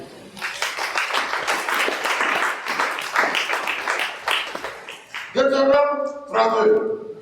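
A French-speaking church congregation applauds Jesus with strong, continuous clapping for about five seconds, followed by a voice speaking loudly.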